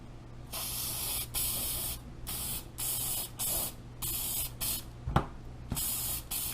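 Aerosol sealant sprayed onto gold glitter baby shoes in a series of short hissing bursts, about ten sprays with brief pauses between them, close and fairly loud with no talking.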